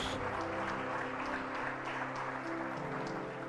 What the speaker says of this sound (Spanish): Démosle un aplauso bien fuerte al Señor